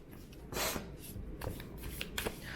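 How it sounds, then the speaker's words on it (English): A deck of cards is shuffled by hand in a few quick riffling bursts, close and crisp, with soft rubbing between the flurries and no voices. "let's see if I can shuffle these real quick"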